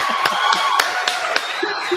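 Evenly spaced sharp hand claps, roughly four per second, greet an overall pick announced during a live NFL mock draft presentation, close and crisp, with a faint voice and tonal sounds underneath.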